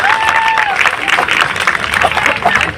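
Applause from an audience at a Gujarati film star event, a brief patter of clapping and crowd noise under a speaking voice, with a faint whistle-like tone at the start.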